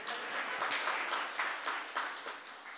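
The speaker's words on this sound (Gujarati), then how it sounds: "ના, તાળી હરખી પાડવી જ પડે એકવાર" An audience at a religious discourse claps, a dense patter of many hands in bursts that swell and ease, fairly close, with no talk over it.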